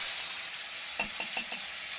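Pieces of fish fry in hot oil with a steady, close, bright sizzle, punctuated by four quick taps or clinks of a utensil near the pan.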